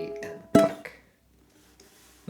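A ukulele plays a short staccato strum or pluck from a song: one sharp, bright attack that rings briefly after a held chord and fades into near silence, with a faint onset at the end.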